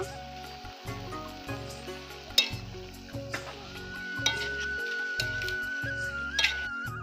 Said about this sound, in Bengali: ধনেপাতা, ভালো করে আমি নেড়ে নেব।